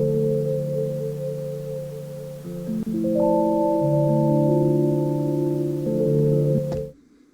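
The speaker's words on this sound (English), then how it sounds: "So in total I made 4 different loops on the Pocket Operator," Lo-fi loop played on a Pocket Operator PO-33 sampler, steady sustained tonal chords shifting every second or so, loud and close, then cutting off abruptly near the end.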